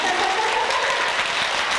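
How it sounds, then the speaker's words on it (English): An audience claps their hands very fast together, a dense, continuous rattle of many hands held at an even loudness throughout. "I want you to clap them very fast"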